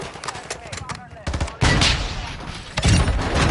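Loud, close bursts of automatic gunfire in the video game Warzone 2.0 come in quick, heavy volleys after a short countdown, with players talking in between.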